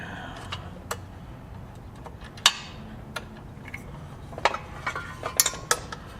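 Small metal clicks and clinks from parts of a Kenmore 71 sewing machine as the presser foot and spring are taken out, scattered light taps over a quiet background with one sharper clink near the middle.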